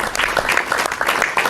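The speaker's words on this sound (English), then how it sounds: "No anthem here, just a ripple of applause." A ripple of applause at a European Union summit signing in Brussels, steady scattered clapping from a room of officials lasting a moment, fairly close and without talk over it.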